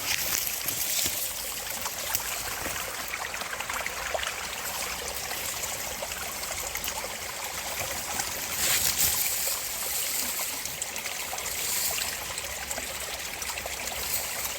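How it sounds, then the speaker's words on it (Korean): A clear mountain valley stream in forested land in Pocheon, Gyeonggi, fed from a waterfall upstream, flowing and splashing in a continuous, even rush close by with no voices over it. "물소리 들리시죠?"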